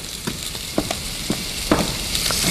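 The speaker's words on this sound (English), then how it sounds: "We're going to stir those into that salsa" Fresh raspberries are stirred into tomatillo salsa with a spoon, making wet, soft scraping and squelching sounds in a few uneven strokes over a steady background hiss.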